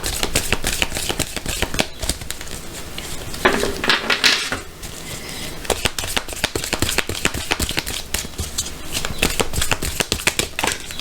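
Tarot cards shuffled by hand in a dense, continuous run of crisp riffling and slapping, close and steady, with one louder burst partway through; no one speaks.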